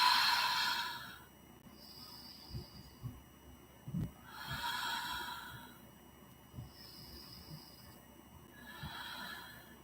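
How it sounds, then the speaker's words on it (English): Slow breaths are drawn in and then released out through the mouth during a yoga flow. Three airy, breathy exhales come several seconds apart, soft and close over a quiet room background. "focus on breathing in, holding at the top, and then releasing a few times out your mouth"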